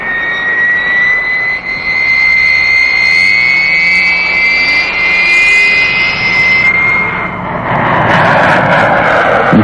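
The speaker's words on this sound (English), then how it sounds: "like your first ride in an Air Force jet" A U.S. Air Force jet roars steadily in flight, a loud sustained engine rush with a high whine running through it, swelling louder near the end with no voices.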